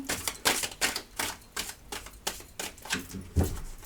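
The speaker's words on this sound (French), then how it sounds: "j'ai mélangé le jeu" A deck of tarot cards is shuffled by hand in a quiet room, giving a quick series of papery riffles and snaps at an uneven pace with no talking.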